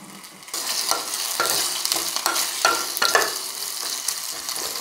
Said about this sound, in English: I'm gonna saute them for a while.